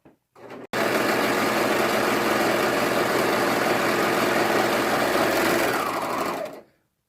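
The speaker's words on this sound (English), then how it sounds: "So now I'm just going to sew the inseam on both pant legs." A serger sews and trims the inseam of leggings in one loud, continuous, close-up mechanical buzz lasting about six seconds after a short start, then cuts off abruptly.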